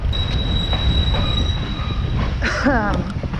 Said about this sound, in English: It's a little less peaceful when the trains are chugging along.